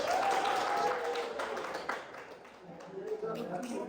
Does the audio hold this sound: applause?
yes